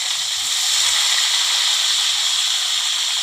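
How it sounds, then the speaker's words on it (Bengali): Capsicum frying lightly in a pan while cooking paneer malai masala, a steady close sizzle and hiss running unbroken throughout with no talking. "এই যে ক্যাপসিকামটা একটু ভেজে নেব"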